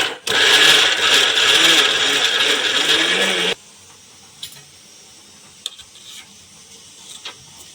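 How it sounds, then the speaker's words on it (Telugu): A kitchen mixer grinder whirs loudly while grinding coconut, running at a steady high-pitched roar for about three seconds before stopping abruptly, followed by faint clicks and handling sounds. "మిక్సీకి వేసుకుంటున్నాను ఫ్రెండ్స్ ఈ కొబ్బరిలో"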